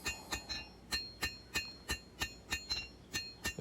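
A hammer strikes 1095 high carbon steel while a knife tip is hand forged, about twelve steady, ringing blows at close range in an even rhythm.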